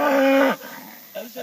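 A belted Galloway, a Scottish cattle breed on an organic grass-fed farm in upstate New York, lets out one loud, close moo that breaks off, followed by faint lowing sounds.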